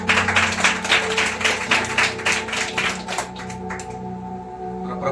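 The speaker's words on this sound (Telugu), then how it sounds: "మరొకసారి చప్పట్లు కొడతాం." A church congregation claps together in a Sunday service, a dense, loud patter of hands with steady rhythm that thins out and fades toward the end, leaving a faint hum beneath.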